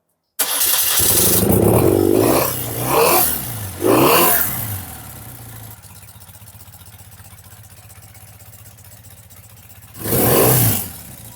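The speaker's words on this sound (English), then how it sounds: "We can start the bike right now." A BMW R75 cafe racer motorcycle cranks and fires up nearby, blips its throttle in several sharp revs, settles into a steady, lumpy idle, then roars with one more loud rev near the end.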